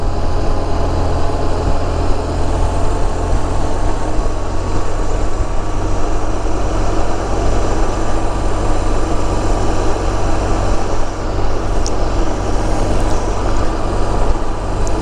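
A motorcycle engine drones steadily while riding on the road, loud and continuous, with a constant low rumble and rushing wind noise and no talking.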